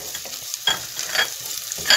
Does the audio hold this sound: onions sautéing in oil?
yes